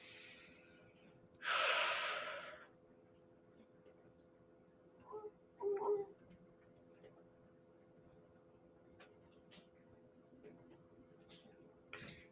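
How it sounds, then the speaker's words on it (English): A forceful breath during Nauli Kriya yoga practice, one strong rushing exhalation near the start, then a couple of quieter breathy puffs, close up in an otherwise quiet room. "So you exhale all the air out."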